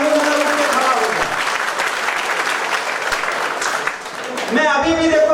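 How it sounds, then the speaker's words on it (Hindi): A large crowd at a political rally claps loudly and continuously, a dense wash of applause that dips briefly before a voice and some tonal sound cut in near the end. "ऐसी जोरदार ताली बजाओ"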